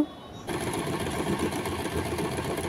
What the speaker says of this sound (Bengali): এটা হচ্ছে সিঙ্গারের একটা ইলেকট্রিক মেশিন